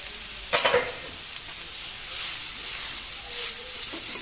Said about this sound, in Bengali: আমি খুব ভালো করে গাজর কটা ঘি দিয়ে ভেজে নেব